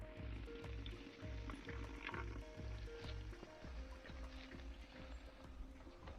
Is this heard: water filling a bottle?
yes